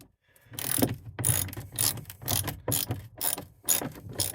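Ratchet tightening T40 bolts on the storage box bracket of a 2024 Polaris Ranger, heard as about seven quick bursts of close, crisp clicking strokes with short pauses between them.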